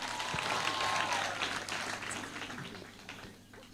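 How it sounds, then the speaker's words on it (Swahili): An outdoor audience at a public project launch in Kiharu, Murang'a breaks into applause, a dense burst of clapping that swells, then gradually thins and fades over a few seconds. "Mpigieni makofi tafadhali."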